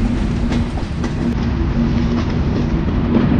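Chitra Express train running between Chuadanga and Alamdanga in Bangladesh, with a steady loud rumble and rhythmic wheel clatter from close by throughout, and no voices.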